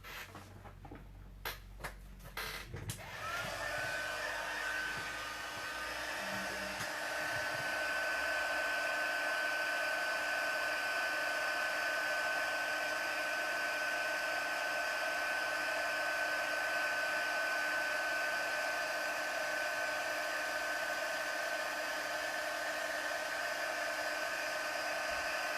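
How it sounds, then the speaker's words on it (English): A heat gun used for heat embossing on a watercolour emboss-resist papercraft piece blows with a steady, even whirring hum for over twenty seconds, preceded by a few short handling clicks and rustles. "So I'm just going to heat emboss these two again."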